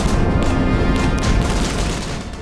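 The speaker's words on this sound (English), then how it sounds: "Only when the gunfire started did he realise he was in trouble." Gunfire from a World War II D-Day battle scene in a documentary, a dense, loud barrage of overlapping shots and blasts with no pauses, fading slightly toward the end.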